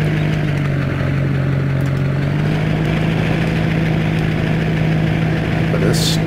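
Diesel engine of a 2017 Chevrolet Silverado Duramax in Farming Simulator 17, used for snow plowing, idling with a steady low drone and faint clatter, its pitch rising slightly partway through, with talk over it.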